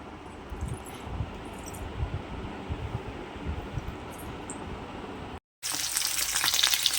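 Paneer cubes fry in hot oil in a home kitchen, giving a continuous soft sizzle and crackle that cuts out briefly and returns brighter and louder near the end.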